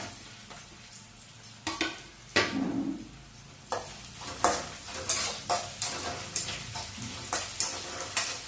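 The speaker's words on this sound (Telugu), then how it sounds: "అవి వేగుతూ ఉండగానే వెల్లుల్లిపాయలు" Garlic frying in a pan for a quick breakfast dish, with a steady close sizzle punctuated by repeated scraping and stirring strokes of a utensil against the pan.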